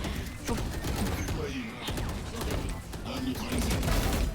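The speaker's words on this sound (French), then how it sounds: "faut dépenser un chargeur dans ce jeu pour passer" Bursts of video game gunfire, a whole magazine emptied in rapid repeated shots at close range, mixed with overlapping game effects and clatter while players talk.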